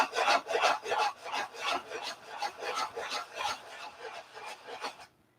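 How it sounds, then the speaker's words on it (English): Sandpaper rubbing back and forth on balsa wood in a steady run of about a dozen raspy strokes, close and fairly quiet, ending abruptly in silence. "Edge of the sandpaper caught the edge of the balsa wood and nicked out a chunk of wood."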